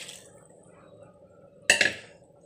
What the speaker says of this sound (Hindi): अब मैं इसमें पानी डालूँगी ज़रूरत के हिसाब से।